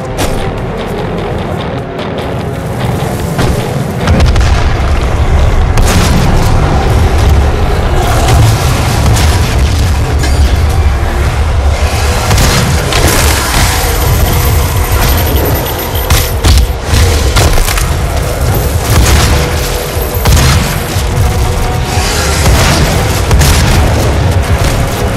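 Gunfire and explosions in the video game DOOM form a loud, dense wall of booming blasts and rapid bursts, rumbling continuously with sharp impacts layered throughout and no talk.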